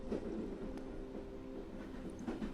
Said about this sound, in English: The train eased out of the station, its wheels settling into a steady rhythm,